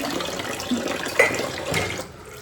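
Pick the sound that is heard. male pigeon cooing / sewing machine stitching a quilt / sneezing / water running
water running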